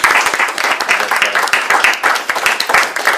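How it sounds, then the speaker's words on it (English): A round of applause fills the room at a rural community council meeting, dense continuous clapping from a small gathering that stays loud and even for several seconds. "So let's give a big round of applause to those three folks."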